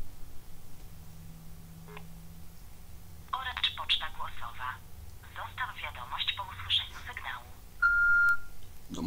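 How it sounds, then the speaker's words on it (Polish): Telephone dialing tones sound in quick bursts while someone calls a press office, followed by a single steady beep on the line near the end. "jak się można do Bronka zespołu prasowego dodzwonić"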